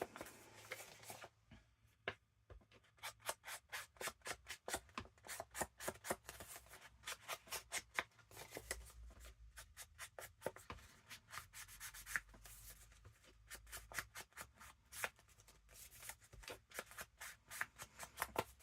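A sponge scrubs ink onto paper for envelopes in fast, rhythmic back-and-forth strokes. The rasping rubs are close and steady, with a brief pause near the start.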